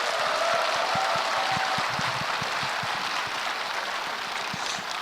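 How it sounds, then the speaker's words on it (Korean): A concert crowd in Gwangju applauds lawmaker Jung Cheong-rae after his eleven-hour-plus filibuster, the clapping a dense, even wash heard from a distance at a modest level. "11시간 이상 고생하신 우리 정청래 의원께 다시 한번 박수 부탁드립니다"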